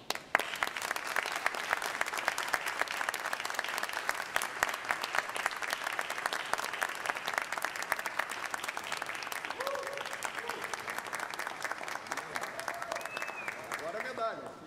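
A crowd applauds steadily throughout a formal honorary citizenship ceremony in Porto Alegre, dense continuous clapping at moderate distance, with a few faint voices under it.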